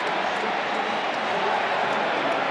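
Football stadium crowd at a 2006 Cowboys vs Falcons NFL game, a steady dense roar of many voices reacting to a penalty flag, continuous and loud throughout with no individual speech standing out.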